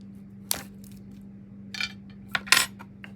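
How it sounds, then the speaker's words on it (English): A woodburning pen's nib being swapped for a small flat round shader, giving a few short, sharp metallic clinks and taps scattered over a steady low electrical hum, close and fairly quiet. "I'm going to switch the nib."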